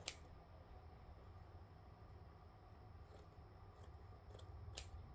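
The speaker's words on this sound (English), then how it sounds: "We're gonna cut it off close as you can to the fabric without cutting the fabric or cutting the shirt." Scissors snip through embroidery stitching on a shirt, cutting close to the fabric, with faint scattered crisp clicks over a low steady background rumble.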